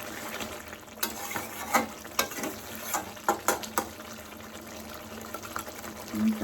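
A curry being sautéed in a pan at home: steady soft sizzling under repeated scraping and stirring strokes, roughly every half second to second, close and moderately loud.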